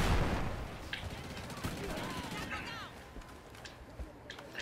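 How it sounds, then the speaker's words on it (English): Gunfire rattles in a first-person shooter video game, short bursts and single shots at moderate distance amid game ambience, loudest at the start and then scattered pops. "Someone's being shot at."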